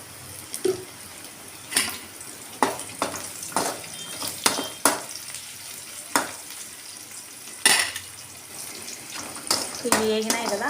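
Curry leaves, cashews and spices fry in a pan for a mushroom curry, with a continuous sizzle broken by sharp scraping and clinking stirring strokes at irregular intervals, and some sounds from a nearby tap.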